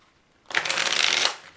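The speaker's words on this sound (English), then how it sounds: "you do 7 riffle shuffles" A deck of 78 tarot cards riffle shuffled once, a quick, close, crisp fluttering burst of cards falling together lasting about a second, after a brief quiet moment.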